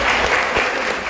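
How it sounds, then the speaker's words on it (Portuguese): A crowd applauds a teacher at a school music event with a jam session, steady dense clapping filling the whole moment, close and loud. "Uma salva de palmas para a professora."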